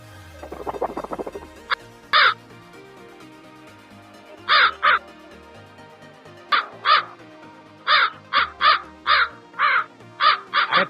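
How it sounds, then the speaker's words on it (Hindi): A crow caws repeatedly in a comedy film scene, with loud, close, harsh calls coming in irregular bursts and clustered quickly toward the end after a brief low rumble at the start. "कौवे का आवाज आ रहा है भाई।"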